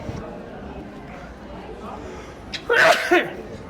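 A single short sneeze bursts out near the end, close and fairly loud, over a steady murmur of background chatter aboard the cruise ship Celebrity Apex.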